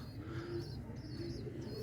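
Pigeon cooing in a breeding setup, believed to be a Shikra pigeon, a low soft repeated coo under steady background noise, with faint higher chirps overhead.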